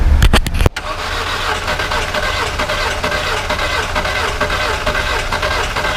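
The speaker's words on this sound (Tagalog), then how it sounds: "Cranking lang mga master, hindi umaandar" A Volkswagen car engine with low oil cranks without starting, a continuous churning whir that runs steadily and fairly loud after a few sharp clicks and knocks at the start.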